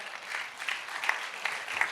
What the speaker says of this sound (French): Applaudissements pour Edgar Gros-Piron